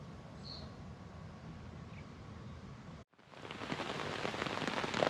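Heavy rain pours down at a botanical garden in Missouri, a steady broadband wash that briefly cuts out, then returns louder and denser, close and without talk.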